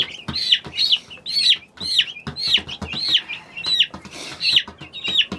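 Young chicks give repeated high, bright chirping peeps in a steady series of about ten calls over several seconds, close by, with faint handling noise between them.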